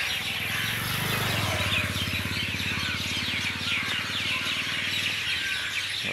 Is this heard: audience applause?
no